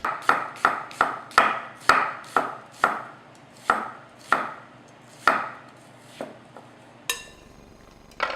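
A knife chops red onion on a cutting board in quick, crisp knocks, about a dozen sharp near strikes that start rapid and then slow and spread out, with no talking.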